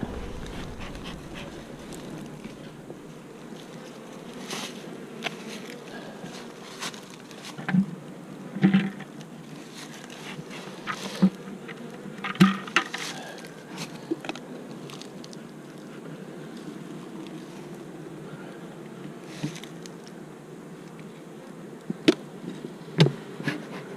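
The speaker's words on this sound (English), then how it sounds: "There's a lot of bees here, and they are bringing in pollen" Honeybees buzz steadily around a hive colony in March as foragers bring in pollen, a dense continuous drone with occasional louder swells as individual bees pass close.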